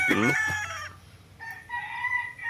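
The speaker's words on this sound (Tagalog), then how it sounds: "Ganda ng mga manok oh." A rooster crows loudly nearby, a stretched cock-a-doodle-doo, followed by softer clucking and a second, fainter crow in the background.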